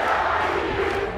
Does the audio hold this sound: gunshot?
no